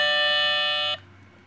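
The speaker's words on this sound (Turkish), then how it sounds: "şimdi çalışıyor zil" A steady electric buzzing ring holds for about a second, then cuts off abruptly, leaving quiet background hum.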